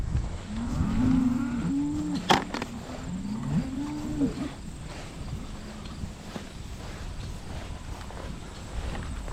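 Cattle on an organic grass farm moo several times, drawn-out lowing calls close by, over a rustling outdoor background with a sharp knock partway through.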